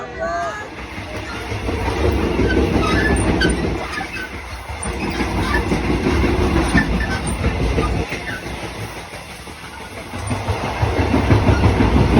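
A train heading to Bangkok rumbles along steadily on its rails, a continuous broad roar that swells and eases, with faint rattling and voices mixed into the noise.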